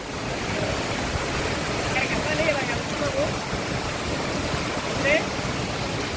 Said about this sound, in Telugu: ఇప్పుడు మీకు చూపిస్తాను అసలైన వాటర్ ఫాల్స్